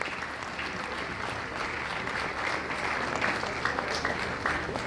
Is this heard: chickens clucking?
no